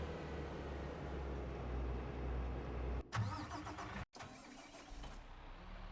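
A tractor engine in Farming Simulator 22 cranks and catches about three seconds in, after a steady low rumble, then settles into a mid-pitched idle following a brief cutout.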